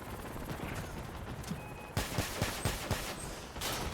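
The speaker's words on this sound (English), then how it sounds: "Nice shooting, brother." Rapid bursts of gunfire from vehicle weapons in the combat game Crossout, sharp repeated shots in a loud clustered volley over steady game noise, with no talk.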